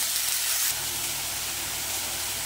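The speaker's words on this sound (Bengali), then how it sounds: "এবারে কেটে রাখা এই যে পুঁই শাকগুলো এবারে আমি এতে দিয়ে দেব। এবারে সুন্দর করে কষিয়ে নেব" Chopped Malabar spinach (pui shak) stir-frying in a pan, a steady close sizzle and hiss running throughout, slightly louder in the first moment and then settling into an even crackle.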